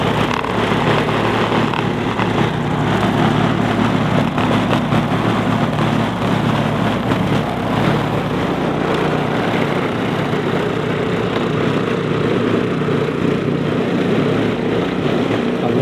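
A Toro 821 snowblower runs steadily in the snow, its engine a loud, continuous rough drone that holds without a break and has no speech over it.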